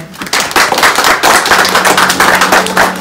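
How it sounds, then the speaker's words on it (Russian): Guests clapping during a wedding ceremony after the vows, a fairly close, uneven patter of distinct hand claps with a few sharper hits, steady over several seconds with a faint low hum underneath. "Ваши аплодисменты, друзья."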